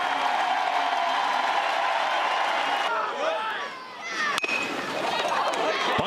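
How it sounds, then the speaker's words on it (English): A home crowd at a college baseball game in Chapel Hill, North Carolina, roars in a sustained ovation beneath an announcer's commentary, then the cheering thins out into scattered noise and a sharp crack near the end. "And listen to the ovation from this Chapel Hill crowd."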